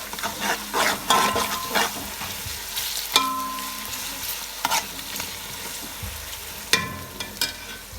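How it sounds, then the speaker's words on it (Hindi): Onion already browned, now with ginger and masala, frying in a pot for mutton yakhni pulao, with sizzling, scraping stirs and clinks of a spoon against the metal, close and steady, no talk. "अब इसमें मसाला अदरक डालेंगे, उसको थोड़ा सा भून के बाकी मसाले डालेंगे।"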